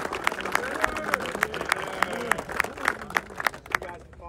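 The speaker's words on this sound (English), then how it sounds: "give these guys a round of applause" A military formation gives a round of applause, steady clapping from a group with sharp individual claps standing out near and loud, lasting throughout.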